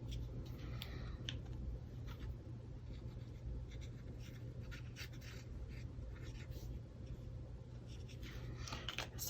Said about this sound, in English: So I'll finish coloring those.